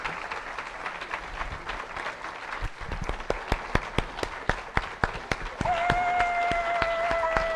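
A crowd at a flight launch event claps for a research team with a thin, uneven patter of individual claps, then a steady tone and murmur take over toward the end.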